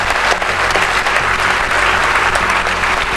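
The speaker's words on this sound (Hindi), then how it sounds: "जिनके लिए चाहूंगी कि जोरदार तालियां हो जाए" Loud, dense applause fills the hall at a national award ceremony as an honoree is introduced, continuous and strong throughout with no voices over it.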